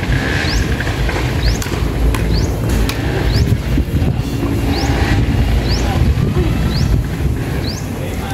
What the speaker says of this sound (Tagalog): Sobrang hangin eh, no?